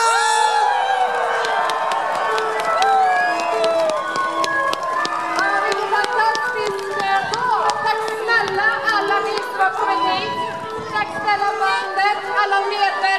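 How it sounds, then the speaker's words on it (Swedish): A crowd cheers and chatters at the inauguration of a Christmas goat on the first Sunday of Advent: a loud, lively outdoor hubbub of voices with shouts, over a musical backdrop. "Folket jubel!"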